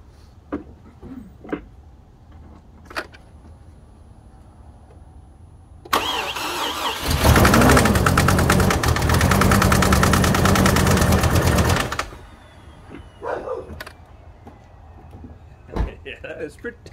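A Chevrolet Colorado pickup's 3.7L engine with low compression cranks, catches and roars into a loud, steady run for several seconds, then cuts off, with faint clicks and handling noises around it.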